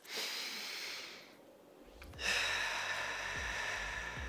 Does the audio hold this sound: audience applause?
no